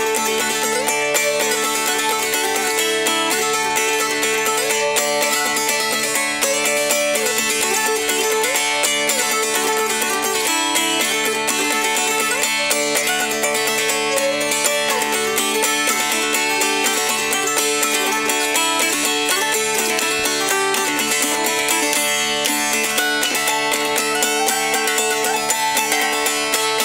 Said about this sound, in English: that's the sound of a mountain dulcimer played in the traditional early way with a noter in the left